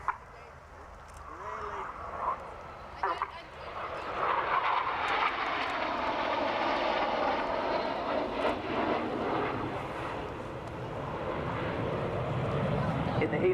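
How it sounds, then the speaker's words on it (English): Red Arrows jets fly the Helix manoeuvre at an air show, a broad roaring jet noise that swells and sweeps overhead, while a commentator talks over a public address system and a dog barks briefly. "As those aircraft swing out like a pendulum, they start a manoeuvre called the Helix."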